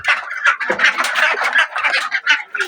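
Two-month-old farm ducks quack busily as they are fed rice and vegetable greens, a dense overlapping chorus of close, loud calls.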